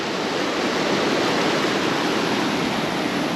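Loud, steady roar of river water rushing through the broken Velliyur check dam on the Kosasthalai river at Thamaraipakkam, a dense continuous wash with no break across the clip.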